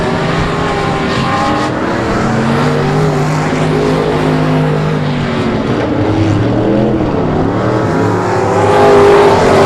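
Limited late model race cars run laps at South Texas Speedway, their engines roaring in a loud, continuous drone that rises and falls as the pack circles, swelling slightly near the end.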